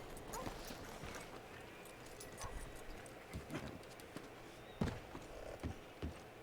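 Horse hooves clip-clopping on the ground in the Red Dead Redemption 2 video game, a steady run of soft, fairly faint hoofbeats with a few louder steps and no talk.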